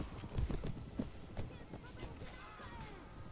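A warhorse gallops in Mount & Blade Warband, its hoofbeats thudding in a quick uneven rhythm that fades gradually, with someone talking over the sound.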